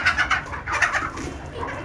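Desi chickens being fed leaves and bran, giving short, close clucks and soft coos in quick bursts, fairly loud and without talk.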